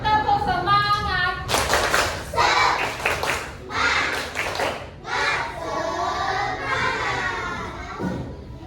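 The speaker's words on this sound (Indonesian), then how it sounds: "Ibu tepuk semangat lagi ya. Tepuk semangat." Classroom children doing a rhythmic spirit clap led by their teacher, bursts of group clapping in patterned rhythm separated by short pauses, mixed with children's voices chanting and calling out between claps.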